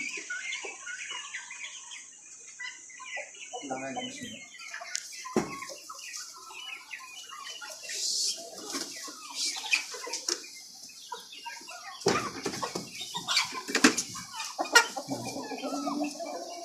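Several light-coloured Columbian Brahma chickens cluck and chatter close by, with short sharp calls scattered over a steady high hiss of background noise.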